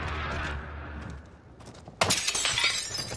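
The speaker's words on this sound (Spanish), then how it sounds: "Estaban rompiendo vidrios." Glass shattering in the video game Warzone, a sudden loud crash of breaking panes following a low rumble and quieter noises, with bright scattered shards ringing out for about a second.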